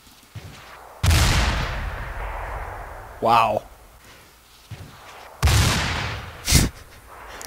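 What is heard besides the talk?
gunfire in a video game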